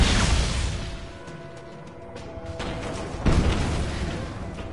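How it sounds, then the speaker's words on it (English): Explosions rumble in the open-world action game Just Cause 3, a dense, continuous booming roar with a fresh heavy blast about two-thirds through, loud and close with no voices. "Don't mind the explosions."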